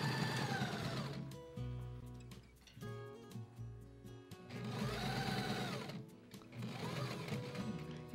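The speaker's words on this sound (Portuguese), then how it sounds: "E ela costura normalmente, ó. Então é uma máquina forte." A sturdy sewing machine stitches through thick fabric with guipure lace on a tea towel, running in several close whirring bursts with short stops between them.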